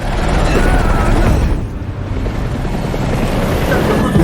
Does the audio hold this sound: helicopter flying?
yes